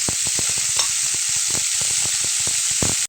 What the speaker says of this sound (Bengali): ফ্রাই প্যানে সামান্য একটু সরিষার তেল দিয়ে ভাজাটা দিয়ে দিতে হবে